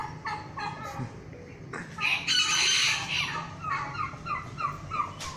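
Hens cluck in short bursts and a rooster crows loudly partway through, with turkey-like gobbling mixed in among the farmyard calls.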